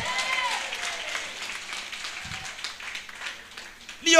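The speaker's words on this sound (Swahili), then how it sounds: "apigieni Bwana wetu makofi mazuri" A church congregation claps steadily for the Lord during a sermon, sustained crowd applause with a voice briefly heard at the end.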